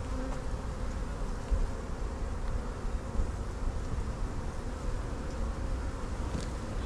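Honey bees in an open hive of frames being built up for almond pollination, a steady dense buzzing drone throughout, close and continuous with no voices.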